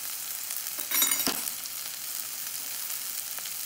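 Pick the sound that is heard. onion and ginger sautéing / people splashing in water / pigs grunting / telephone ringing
onion and ginger sautéing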